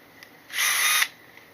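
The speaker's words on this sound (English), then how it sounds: "drill bit that I was using before" A power drill bores a hole through a sheet-metal gas grill heat shield, a single whining burst of about half a second heard up close amid quiet surroundings.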